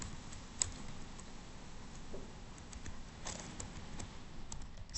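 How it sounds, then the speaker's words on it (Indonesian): Faint, close keystrokes on a computer keyboard while typing a file-permission command. Soft scattered clicks come through a steady background hiss. "Nah, di sini saya ketikkan seperti ini dulu."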